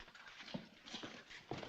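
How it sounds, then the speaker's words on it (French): Horses approach with their hooves clip-clopping in an uneven rhythm, fairly faint and somewhat distant, against a noisy background. "Alors, ces chevaux? Ils viennent."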